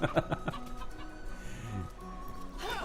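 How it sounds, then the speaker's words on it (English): A chicken in the fantasy role-playing game Divinity: Original Sin clucks in a few quick, close bursts near the start, followed by quieter game ambience and a brief rustle at the end. "Look, it's a chicken."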